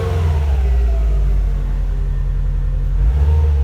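A Subaru WRX STI engine idling from a cold start, a loud, steady low rumble with a slightly raised idle and a faint swell near the end, no talking.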